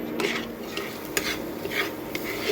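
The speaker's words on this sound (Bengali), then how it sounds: "এবার ভালো করে এটাকে আমি কষে নেব" Banana stem with turmeric and cumin powder stir-fried dry in a pan, repeated spatula scrapes and taps over a soft sizzle, close and fairly quiet.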